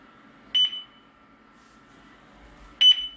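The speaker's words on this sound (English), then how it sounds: "And you can hear the beep." Two short, sharp electronic prompt beeps from a eufyCam security camera system, spaced about two seconds apart against near silence.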